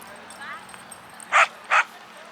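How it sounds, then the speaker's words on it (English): Two sharp dog barks close together, preceded by a faint yip, with quiet outdoor background at the Oconaluftee Pioneer Farmstead in Cherokee, North Carolina. "We've got a dog that has spotted our dogs."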